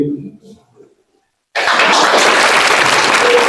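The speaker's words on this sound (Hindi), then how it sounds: "जोरदार तालियों के साथ" At a New Year associate meet in India, a voice trails off into a brief hush, then loud audience applause erupts suddenly and holds at full strength, thick and close.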